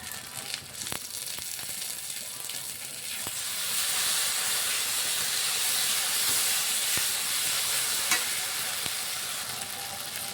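Ginger, garlic and green chilli paste fries hard in a hot pan, a steady close sizzle and hiss that grows louder partway through, with occasional sharp crackles and pops and no talking.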